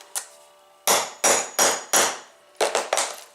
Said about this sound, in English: You don't need a whole lot of hammering,